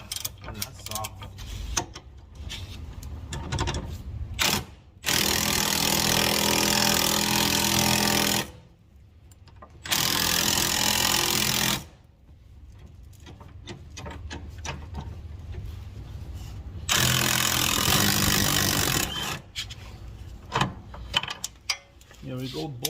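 Impact tool removing rear suspension bolts on a 2008+ Mitsubishi Evolution X during a BC Racing coilover install, sounding in three loud, sustained, close bursts of several seconds each with quieter gaps of clanks and handling between them.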